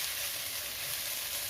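Ginger garlic paste sautéing in a pan for a beef roast gives a steady, close sizzle that holds evenly throughout, with no talking.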